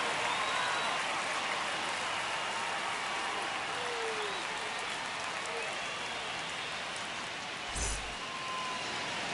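A baseball stadium crowd in a video game roars in a steady, dense wash of cheering that holds loud throughout, with a brief thump near the end.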